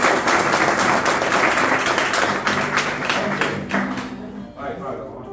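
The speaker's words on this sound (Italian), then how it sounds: "su 3 faccio partire l'applauso" After a spoken countdown, an audience breaks into loud, dense applause with rapid clapping, sustained for several seconds before tapering off, with voices mixed in near the end.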